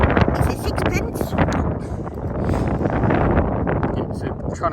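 Wind gusts across an open field during metal detecting, a steady rough rumble buffeting the microphone throughout while people talk over it.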